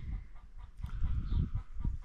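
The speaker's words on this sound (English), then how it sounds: "in the workshop we first of all got a chicken in there that's been hounded by the dogs" A chicken in a workshop, chased inside by dogs, gives low clucks and rustles close by amid soft shuffling noise, fairly quiet and continuous.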